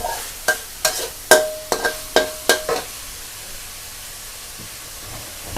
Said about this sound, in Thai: ผัดให้หอมเลยนะคะ